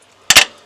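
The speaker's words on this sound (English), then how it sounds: "They're using the rattle gun today too" An impact wrench loosening head bolts on a Mazda BT50 engine during a top-end strip-down: one loud, close double burst of rattling hammering, brief and sharp, with quiet before and after.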